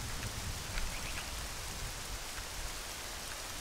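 Steady rainfall at Lake Hylia in The Legend of Zelda: Ocarina of Time, a continuous soft hiss of falling rain with faint scattered droplet patter, even and unbroken throughout.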